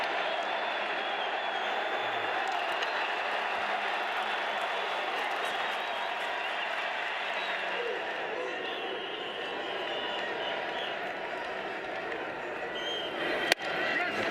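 At a Venezuela vs USA baseball game in Toronto, a pro-Venezuelan stadium crowd sends up a steady wash of cheering and clapping, with a commentator talking over the din and a sharp knock near the end.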